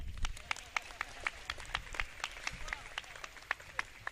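An audience at a religious talk claps together in a quick, steady rhythm, the sharp beats repeating evenly throughout.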